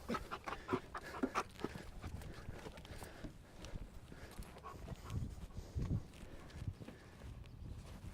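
Frazier, a police drug dog, searches cars, with quick rhythmic panting and scuffling paw steps close by, faint and irregular throughout.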